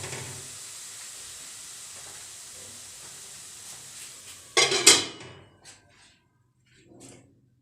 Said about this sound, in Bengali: এইবার গাজরটাকে ঘিয়ের মধ্যে ভালোভাবে মিশিয়ে ঢাকা দিয়ে দিয়ে আমি গাজরটা নাড়তে থাকবো।